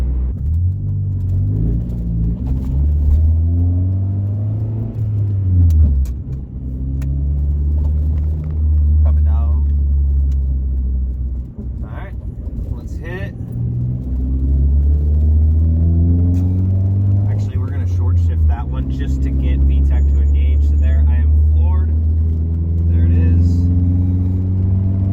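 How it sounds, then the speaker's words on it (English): Honda car with a Cannon exhaust and an added muffler, its engine giving a steady deep rumble that swells and eases through several rev changes, loud and close throughout. "Definitely can hear VTEC better because the exhaust is a lot more muffled now."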